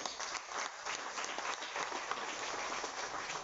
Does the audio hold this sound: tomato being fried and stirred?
no